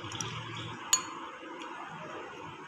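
A spoon stirs chocolate syrup into half a cup of milk, giving a few light clinks against the glass and a soft swishing, quiet and brief.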